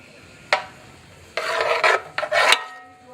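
A seasoning blend is stirred into melted butter in a pot for potato soup: a sharp knock, then several loud, close, rasping scrapes of the spoon around the pot, with no speech.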